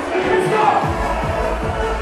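A loud, dense crowd roar fills a live club gig, with cheering and a steady thumping beat running underneath the whole time.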